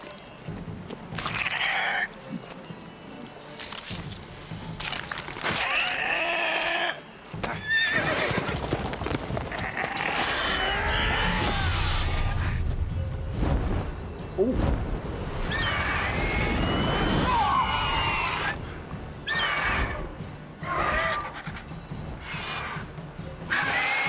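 A horse in the video game The Witcher 3, with rhythmic clip-clop hoofbeats throughout and several neighs and whinnies over busy game sounds, with little talk.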